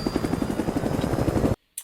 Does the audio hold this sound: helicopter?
yes